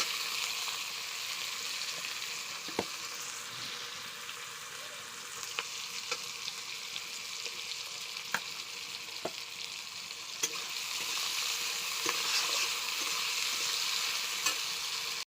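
Spice masala frying with onions before chicken goes in, a quiet, even sizzle carrying on throughout, punctuated by scattered light clicks of a stirring utensil against the pan.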